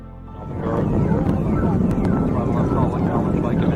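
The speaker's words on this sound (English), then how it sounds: "booster ignition, and liftoff of this" Space Shuttle Discovery booster ignition and liftoff: a deep, broad roar swells in within half a second, then holds loud and steady, with a voice faintly under it.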